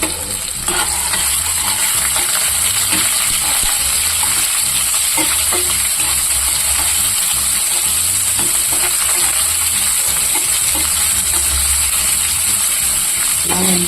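Mustard seeds, dried and green chillies, garlic and onion fry in hot oil with a dense, constant sizzle close by, broken by occasional stirring clinks.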